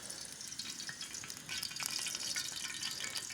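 Food sizzles and crackles steadily in hot oil, a dense close-up hiss with scattered pops, growing slightly louder partway through.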